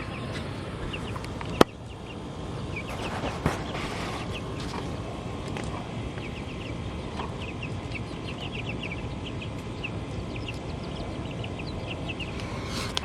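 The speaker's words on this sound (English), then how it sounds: "The meat chickens" Meat chickens on a homestead cluck and chirp steadily at close range through a constant farmyard murmur, with a brief sharp knock partway through and no talking.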